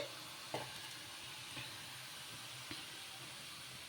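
Potato karapusa strands fry in oil over a low flame, a soft, steady sizzle with a few faint stirring clinks, quiet and close.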